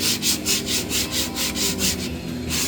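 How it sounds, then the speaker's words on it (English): Sandpaper rubs back and forth across the metal tailgate of a 1959 El Camino, a steady run of about ten fast, even strokes, loud and close, with no voices. "it's a fact that the faster you sand, the faster you go, the more material you'll take on."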